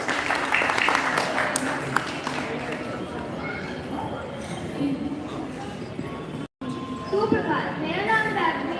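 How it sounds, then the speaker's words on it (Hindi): Audience applause for a student at a school event held during a birthday hawan ceremony, steady clapping mixed with crowd murmur and voices, fading out briefly near the end before noise resumes. "वैभवी के लिए जोरदार तालियां बजाएगी।"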